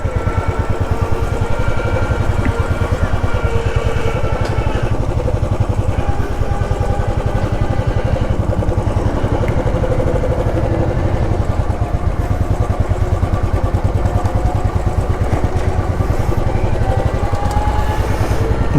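A motorcycle engine drones steadily up close as the bike moves through heavy truck traffic on a highway near the Bangladesh border, with no break in its rough, even hum.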